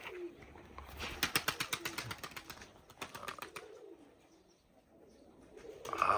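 Pavlodar double-crested tumbler pigeons coo in repeated soft bursts, with a brief flurry of wing flaps early on and quieter cooing afterward, close and without speech.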